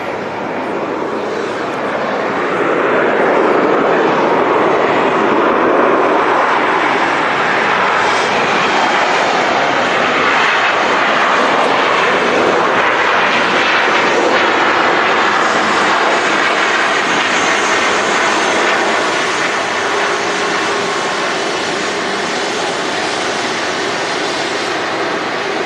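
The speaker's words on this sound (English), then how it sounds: "we'll switch over to the Jet2 A330 taxiing past. Probably hear the noise in the background." A Jet2 Airbus A330 airliner taxis past at Manchester Airport, its engines a loud, continuous broadband roar that swells and holds steady for the whole stretch, with no speech over it.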